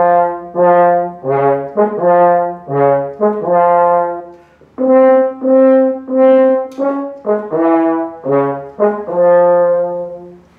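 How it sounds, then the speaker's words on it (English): French horns play the ominous Darth Vader theme from Star Wars, a slow march of strong sustained brass notes with short pauses, loud and alone without any talk. "when they introduce Darth Vader, he gets a theme song that's played by French horns"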